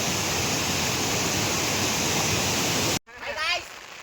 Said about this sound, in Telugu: ఇక్కడ వాటర్ ఫాల్స్ వచ్చేసి స్టార్ట్ అయ్యేది ఇక్కడే, ఇక్కడ నుంచి కింద నీళ్ళు పడతాయి